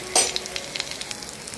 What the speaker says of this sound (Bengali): শুকনো লঙ্কা, কাঁচা লঙ্কা দুটোই কিন্তু ভাজা ভাজা হয়ে গেছে